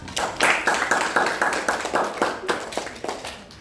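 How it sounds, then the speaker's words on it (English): A classroom of students claps for a classmate during a microteaching lesson, a burst of many hands close by, dense at first and thinning toward the end. "give applause to Myla"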